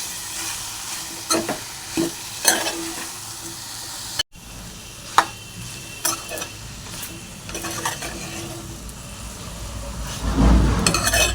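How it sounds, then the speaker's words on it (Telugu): A spatula stirs cauliflower egg curry in a pan, with repeated close scrapes and taps against the metal over a low background sizzle of frying. "మంచిగా కలుపుకోవాలండి"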